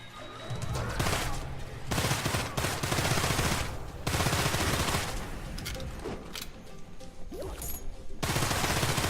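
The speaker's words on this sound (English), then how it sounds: "we also have a special power that I can activate, which in this form, it lets me go into rapid fire" Rapid bursts of gunfire from a special rapid-fire power in the Immortal Redneck shooter game, loud, dense volleys in several long stretches separated by brief lulls.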